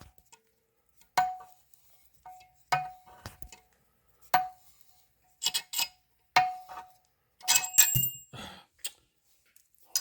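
A valve spring compressor is backed off on a Saab B234I engine from a 1994 Saab 9000. Sharp metallic clicks and clinks come in irregular bursts at close range, with a few louder rattling clatters toward the end and near-silent gaps between them.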